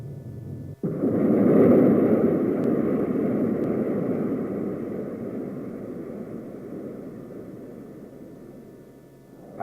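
A Ryan Firebee jet target drone roars past in a loud, steady jet rush that starts abruptly, peaks early, then slowly fades as it flies on station.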